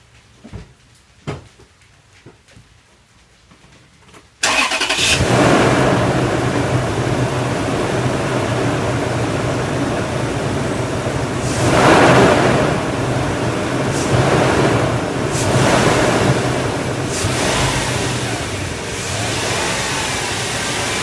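After a few quiet clicks, a 2005 Toyota Tundra pickup engine with its stock intake cranks and roars to life, then settles into a loud, steady rumbling idle with occasional revs.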